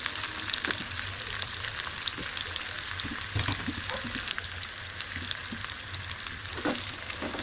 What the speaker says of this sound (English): All ingredients nicely we have to saute.